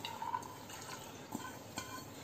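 Water is poured into a pressure cooker over washed chana dal, a faint liquid fill with a rising tone and a few soft drips and clinks, quiet and close, with no voices.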